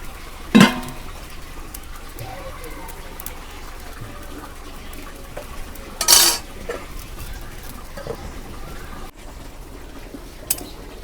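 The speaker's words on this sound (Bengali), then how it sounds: "তরকারির বলক উঠছে, এখন মাছ দিয়ে দেবো।" Fried river fish goes into a pot of simmering spinach curry, with scattered clinks of metal utensils against the pot, a couple of louder sharp scrapes, and soft background ambience with faint birds.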